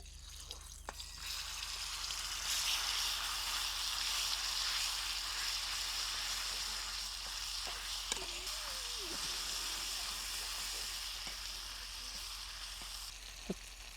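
Spice paste dropped into hot oil in a kadhai crackles and sizzles softly and steadily, with faint drips and clinks and brief low speech underneath.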